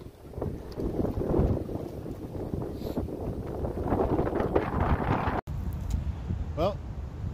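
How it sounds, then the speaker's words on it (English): Strong wind gusts buffet the microphone outdoors at Firefighters Park golf course in Troy, Michigan, a continuous loud rumbling roar that swells and eases, with a brief dropout near the end. "some pretty serious wind out here at Firefighters"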